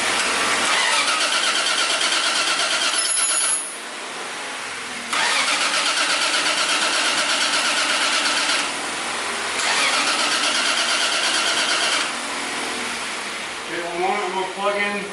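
The 2JZ engine of a rebuilt Nissan S13 roars and revs in long, loud sustained bursts separated by brief dips to a lower idle, with a short rattling stutter at the end and people talking around it.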